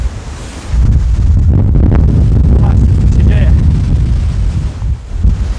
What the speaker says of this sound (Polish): to są takie momenty, kiedy wiatr naprawdę zawieje mocno